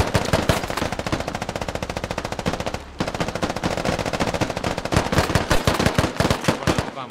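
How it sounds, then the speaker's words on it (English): Rapid automatic gunfire from the video game Squad, with rounds striking a window, comes as a dense, continuous stream of sharp cracks that pause briefly midway and then resume, loud and close with no talk. "Rounds coming into the window."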